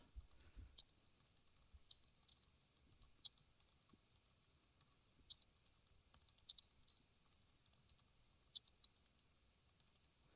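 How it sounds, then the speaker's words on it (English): Someone types on a computer keyboard while composing a tweet, producing a quick, irregular run of light clicking keystrokes that continues steadily throughout, close and fairly quiet, with no talking. "I'm just going to type it right in this What's Happening box."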